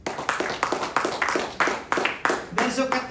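A church congregation claps in a steady rhythmic beat, each clap sharp and evenly spaced, while a voice joins briefly at the end.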